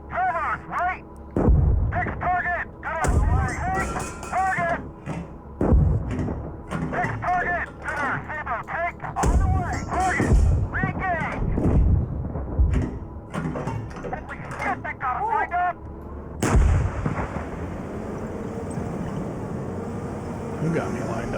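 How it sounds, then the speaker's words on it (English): Artillery fire and mechanical clanks in the PC tank simulator Gunner, HEAT, PC!, with heavy booms and ratcheting mechanism sounds scattered throughout under someone talking, ending in a sustained rushing roar. "I'm going to start throwing some artillery out there"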